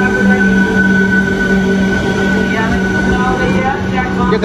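A train standing at a railway station gives off a continuous low rumble with a steady humming drone from close by, while a person talks over it.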